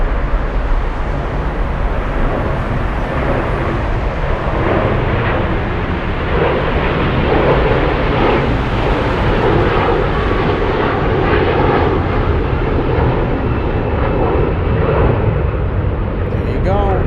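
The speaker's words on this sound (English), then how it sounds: "That is the Discover Airlines Flight 68 on its way to Orlando, Florida on an A330-300." A Discover Airlines Airbus A330-300 jet on takeoff at Frankfurt airport, a loud, continuous broadband engine roar that fills the whole stretch, with people talking over it.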